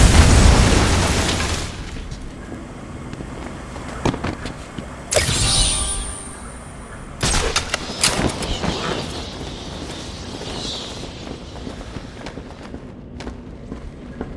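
Explosive charges blasting through walls in Batman: Arkham Asylum: a loud boom opens the scene, then two more sharp blasts follow a few seconds apart, each trailing off into rumbling debris and low ambience.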